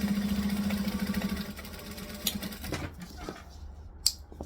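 A sewing machine runs a short back stitch, a fast steady mechanical chatter for about a second and a half, then stops, followed by a few handling clicks and taps nearby.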